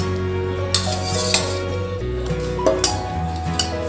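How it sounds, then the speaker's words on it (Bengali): Metal utensils clinking against a pan while freshly fried jalebis are lifted from hot oil and drained, several light sharp clinks over a steady background hum. "জিলিপিগুলো ভাজা হয়ে গেছে, আমি এবার তেল ঝরিয়ে তুলে নিচ্ছি।"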